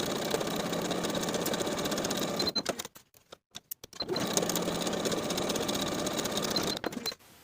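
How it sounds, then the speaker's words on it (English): A sewing machine stitches pocket seams with a fast, steady mechanical whir. It stops briefly for a few seconds and then runs again, close and with no talking. "Sew the top and bottom edge with a 1/2 inch seam allowance."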